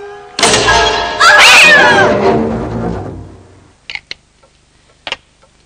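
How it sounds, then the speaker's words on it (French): A cat loose inside a house lets out a loud, drawn-out meow and caterwaul close by, followed by a few brief, sharp ticking clicks in otherwise near silence. "C'était un chat qui s'était trouvé là par erreur."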